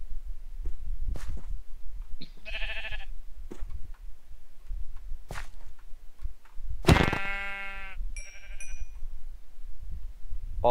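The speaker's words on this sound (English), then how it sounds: "All I see is sheep." Sheep bleating in Minecraft: two distinct bleats, one short and one louder and longer, over a quiet game background with scattered ticks.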